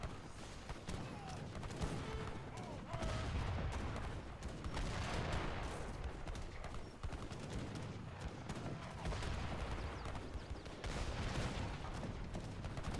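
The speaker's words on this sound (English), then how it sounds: "Here comes the artillery" Artillery in Age of Empires 3 Definitive Edition shells buildings in a dense, continuous barrage of booms and gunfire, with cannon and musket shots overlapping in a steady roar of battle.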